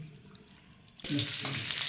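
Tap water suddenly gushes into a kitchen sink while vegetables are washed, starting abruptly halfway through after a quiet room and then running steadily and loudly close by.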